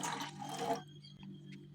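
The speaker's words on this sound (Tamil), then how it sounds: "பாத்திரம் வச்சு அதில் பாலை ஊற்றிக்கோங்க." Milk poured from a container into a pot on the stove for masala tea, a brief close liquid splash lasting under a second, then quiet kitchen background with a few faint drips.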